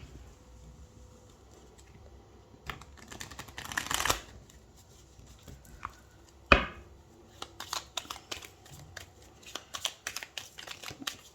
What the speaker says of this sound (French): on va faire un brassage endroit envers